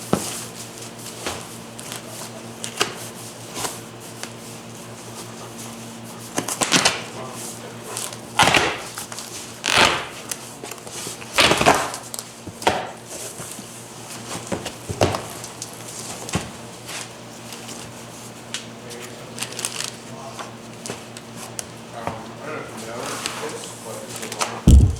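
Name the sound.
opening cardboard box of Jet Hot coated turbo parts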